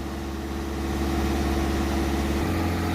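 A Peugeot Boxer van's diesel engine idles steadily up close after an EOLYS additive tank replacement, a low, even rumble that drops slightly in pitch near the end, with no one speaking.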